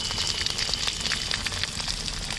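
Spice masala with Kashmiri red chilli powder and turmeric frying in a pan for prawn biryani, a loud, dense, continuous sizzle with faint stirring close by, no talk.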